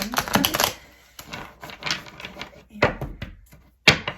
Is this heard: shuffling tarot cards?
yes